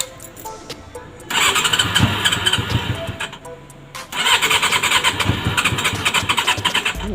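Honda CB400 motorcycle engine with a rattling noise, revving loudly up close in two bursts separated by a brief drop in level, with a harsh mechanical clatter over the engine drone.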